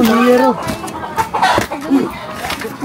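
A chicken clucks in short bursts nearby as people talk and exclaim over it.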